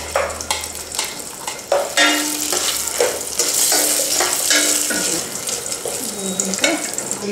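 Onions, dried red and green chillies, curry leaves, cumin, urad dal and mustard seeds frying in oil for an ulavacharu chicken biryani, with a steady close sizzle and repeated spoon scrapes and clicks against the pan, plus brief watery splashes.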